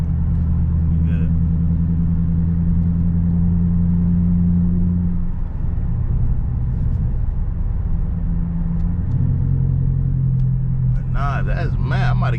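A 2016 Dodge Charger R/T driving to work in the rain gives a deep, steady in-cabin engine and road rumble that shifts pitch midway, with someone talking over it.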